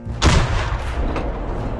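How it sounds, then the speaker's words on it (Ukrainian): A single heavy Ukrainian army artillery gun blast booms close by, followed by a long rumbling echo rolling off. "Гармата постріл!"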